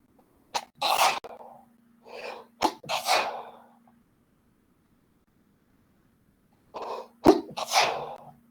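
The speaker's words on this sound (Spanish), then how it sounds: "Perdón, voy a estornudar." A man, a teacher in a class, sneezes several times in close succession, loud and near the mic, with short breathy bursts and a faint hum in the background.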